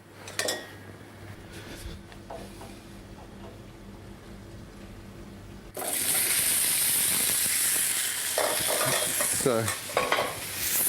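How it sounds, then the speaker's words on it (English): Food frying in olive oil in a pan starts up as a loud, steady sizzle about halfway through, with stirring and pan clatter on top, after a quieter stretch with a brief spoken word. "Touch of olive oil into the pan. And we're just going to very quickly, lightly colour them again."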